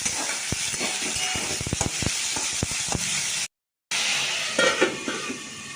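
Potatoes fry in a pan with a constant bright sizzle and scattered crackles and pops. The sound cuts out briefly near the end, then the sizzling carries on.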